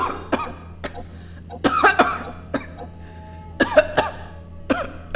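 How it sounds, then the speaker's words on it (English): Faint, congested coughing fit as an audio drama sound effect: a string of short, wet coughs and throat-clearing bursts, irregularly spaced, close and alone with no talk. "She jerked again and made a noise, a faint, congested cough."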